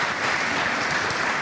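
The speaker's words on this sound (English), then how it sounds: "One clap." A military audience at an Army National Guard leaders' summit bursts into a single group clap that swells into steady, dense applause, loud and close, filling the whole moment with no talk over it.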